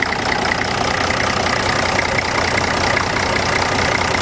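A riding lawnmower with a big motor runs at a loud, steady, rumbling idle throughout, with no break or change in pitch.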